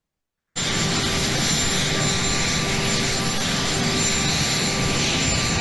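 Presidential aircraft departing, either Air Force One or Marine One, as a loud, steady engine roar that starts abruptly and holds unbroken with no talk over it.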